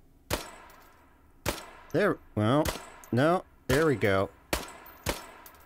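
Uzi Nano machine pistol in the H3VR virtual reality game fired on semi-auto, with five sharp single gunshots spaced about a second apart and someone talking between them.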